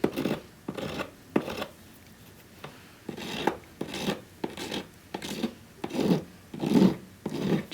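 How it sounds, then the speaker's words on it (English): A metal file rasps against a piece of carving wax as it is shaped into a half-round, about a dozen short, even scraping strokes in a steady rhythm, close and fairly quiet, with no talk. "so I can apply even pressure and efficiently file away what I need"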